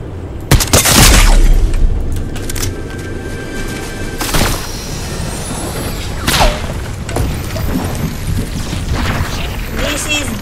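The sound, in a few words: gunshots in the video game Fortnite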